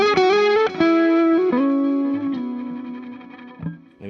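A Schecter headless electric guitar with its volume knob rolled back rings out with a few sustained, gently driven notes and a chord, each left to decay slowly, with no talking.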